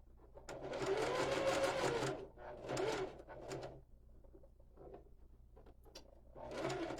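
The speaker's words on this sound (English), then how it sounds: "This is the slowest part of the whole thing, is sewing these bottom pieces on" Sewing machine stitching the bottom pieces onto a fabric water bottle holder, running in several close bursts of motor whir and needle clatter with short pauses between them, no talk.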